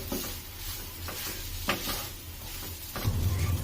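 Fried rice being stirred in a pan with hot tomato sauce, giving a steady low sizzle with scraping stir strokes, which grow louder and busier toward the end.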